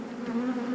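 Bees buzz around an open hive colony, a close, steady drone of wings with a wavering pitch throughout the short moment.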